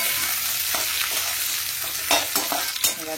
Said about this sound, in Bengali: এই যেখানে পেঁয়াজ ভাজছি,